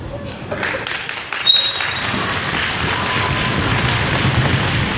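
A school audience at a Red Ribbon Week kickoff claps for the day's presenters, a steady rain-like wash of applause that swells slightly and holds through to the end.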